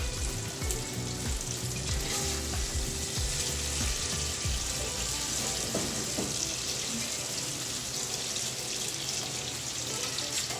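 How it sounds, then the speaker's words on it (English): Capers and their juice with stock simmering in a pan, a steady dense sizzle and bubbling that runs loud and continuous throughout, with faint clinks and stirring over the top and no voices. "Then we're just gonna let that come to a gentle simmer and reduce it slightly."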